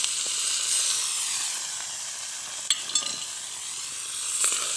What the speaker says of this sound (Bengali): এটাকে আমি সুন্দর করে ভাজা ভাজা করে নেব